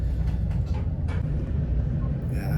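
Steady low rumble of a train interior during a long train ride, a continuous rolling drone with faint rattles and a brief brighter hiss near the end, no talking.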